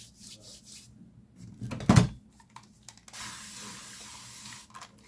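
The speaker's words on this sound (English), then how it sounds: "Spray it with alcohol." Alcohol sprayed from a bottle onto freshly poured epoxy resin in a cup with tissue embedded, a single short close hiss in the middle of quiet handling and rubbing noises, with no talk.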